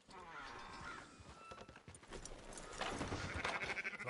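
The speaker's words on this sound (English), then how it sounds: "Fine sheep." Sheep bleating and shuffling on a farm, with faint hoof-like clops and a louder burst of animal noise near the end; a voice speaks briefly.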